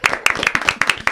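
Small audience at a talk on feminism and masculinism applauding, a few nearby pairs of hands clapping in quick, uneven bursts, loud and close with gaps between claps.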